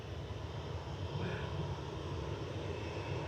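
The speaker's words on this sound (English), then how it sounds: "Turkish just touching down from Istanbul" Turkish Airlines Airbus A321neo touching down at Manchester Airport after a flight from Istanbul, a continuous broadband jet roar with a low rumble, heard steadily at a distance.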